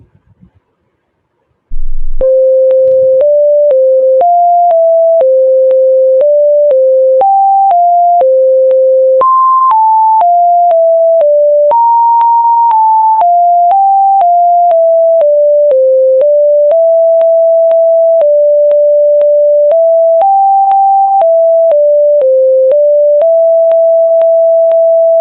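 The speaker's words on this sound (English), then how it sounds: "Now we'll hear two tones concatenated one on other." Computer-generated pure tones made in Scilab, two tones concatenated, play in a long unbroken sequence, stepping up and down in pitch like a simple beeping melody, loud and steady.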